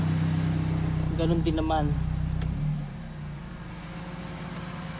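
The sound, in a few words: Toyota 2E car engine idling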